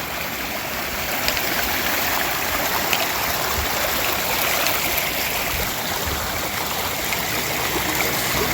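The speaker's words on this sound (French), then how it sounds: "Les 2 pieds dans l'eau. C'est comme ça qu'on traverse." Walking on foot through a stream on the West Highland Way: steady loud rushing and gurgling water close by, continuous and broadband throughout, with no clear voices.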